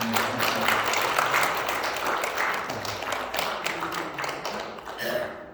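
A church congregation at a Korean Sunday worship service claps to welcome back an elderly member brought from a nursing home, a dense sustained round of applause that fades out near the end.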